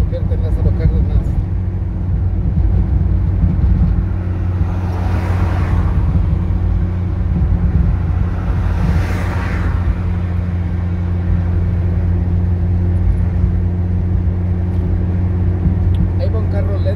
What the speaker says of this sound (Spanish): Ahí va un carro lento a la derecha